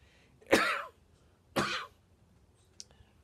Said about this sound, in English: Had a persistent cough.